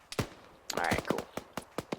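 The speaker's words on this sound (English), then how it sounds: "I still hear a large autocannon going off. That would be the Apache." An Apache helicopter's autocannon fires in Arma 3, heard as sharp, spaced cannon reports and short bursts amid a busy battle soundscape, with a voice talking over part of it.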